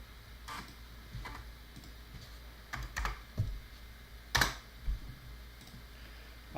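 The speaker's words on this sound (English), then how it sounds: "The distinctive sound of the 1200 keyboard." Typing on an Amiga 1200 keyboard: irregular clusters of light, clacky keystrokes, some louder taps and pauses between bursts, close up and quiet with no talking.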